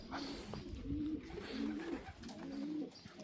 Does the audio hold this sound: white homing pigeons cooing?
yes